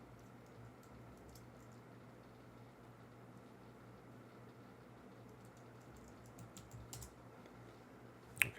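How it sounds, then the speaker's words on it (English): Keys click in quick, irregular bursts as a password is typed on a computer keyboard, soft and close over a low steady hum, with a couple of sharper taps near the end. "Okay, still typing the password wrong."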